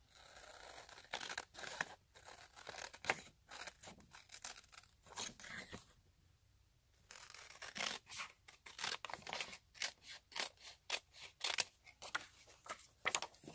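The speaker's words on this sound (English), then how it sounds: "I'll just cut it out with scissors here." Scissors snip through paper while an old hardcover book is turned into a junk journal, a run of crisp close cuts with short rhythmic bursts, pausing briefly in the middle before the cutting resumes.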